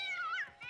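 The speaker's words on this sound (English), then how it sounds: "My cats are being menaces back there, so I'm sorry if you hear them playing." A house cat gives one short, clear meow that rises and then falls, close by and with no other sound around it.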